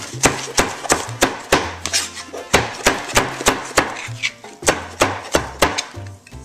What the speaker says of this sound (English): this is just a marinade, so just give it a rough chop.